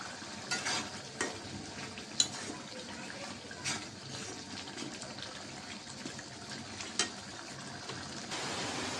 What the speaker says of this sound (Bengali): কষাই নেব মশলার সাথে